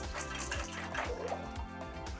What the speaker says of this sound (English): Okay, so now we're gonna drain the water out.